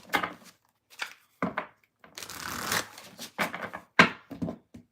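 A deck of cards is shuffled by hand in several short, close riffles and bursts of slapping and rustling, separated by brief silences, with no talking.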